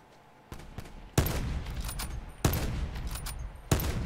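Bursts of automatic gunfire in Black Ops 4 Blackout, loud sharp volleys that start abruptly several times, each trailing into rattling shots and echo.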